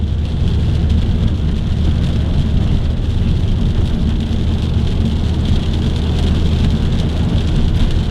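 Steady rain falls outdoors, a loud, even, unbroken hiss of drops with a low rumble beneath and no pauses.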